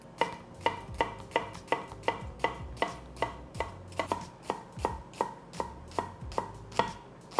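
A knife chopping a yellow onion on a cutting board, a steady run of about twenty crisp, even knocks at a brisk rhythm, close and clear with no talking.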